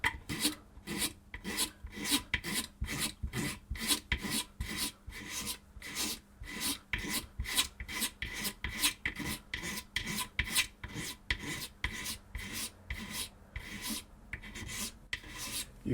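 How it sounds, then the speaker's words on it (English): A hand scraper is drawn along the wooden body of a handmade guitar, working downhill with the grain on difficult wood. Steady, close rasping strokes repeat in quick rhythm, each a bright scratchy pass, with no talk. "You can just scrape them out."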